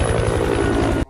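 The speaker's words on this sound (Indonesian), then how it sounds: "Sebuah helikopter terbang mengarah kepada Rovach." A helicopter flying in a film scene makes a loud, steady rotor and engine drone with a pulsing beat, heard alone and cut off abruptly at the end.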